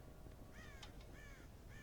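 Crows in Red Dead Redemption caw several times against a steady hum of game background ambience, with short harsh calls that rise and fall across the moment, coming from a middle distance.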